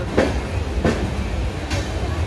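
Inside a moving passenger train on the Rupasi Bangla route toward Adra Junction, a steady low rumble carries three evenly spaced rhythmic clacks of the wheels passing rail joints, with no voices.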